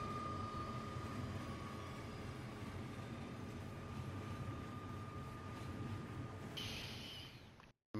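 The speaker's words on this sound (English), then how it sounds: "Train!" A steady, loud rumble of a train in the Final Fantasy XV video game with a sustained tonal hum rolls on for several seconds, then cuts off abruptly to silence at the end.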